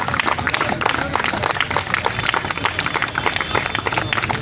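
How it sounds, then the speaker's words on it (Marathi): A school audience at an eco-friendly club speedball workshop in Solapur claps loudly and continuously, a dense, steady wash of many hands filling the room with no pauses. "टाळ्या वाजवूया जोरात"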